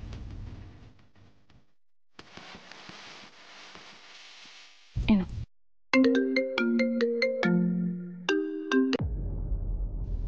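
A melodic mobile phone ringtone plays several clear repeated tone phrases at moderate volume during an outgoing call in a Bengali TV drama, preceded by quieter room noise and followed by a low background hum.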